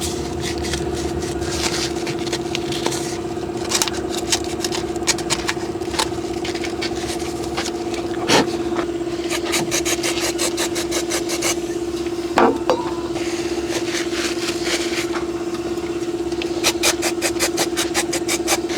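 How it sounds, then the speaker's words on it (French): The inside of a rubber bellows from a Princess 286 boat's Z-drive is sanded by hand, giving repeated scratchy rasping strokes over a steady mechanical hum, with occasional sharper scrapes. "On va poncer l'intérieur pour le rendre mat."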